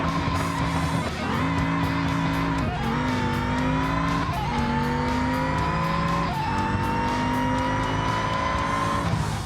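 All-wheel drive Soliad Lansdale van on a quarter-mile drag run on an unprepped road in BeamNG, its loud engine screaming and climbing through several gear shifts with brief dips between, steady and close.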